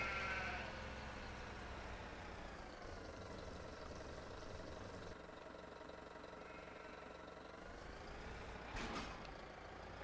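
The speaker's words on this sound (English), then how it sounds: "The mucky sheep." Sheep bleat in a farming video game, a drawn-out faint bleat over a low steady engine-like drone, quiet and continuous with no talk.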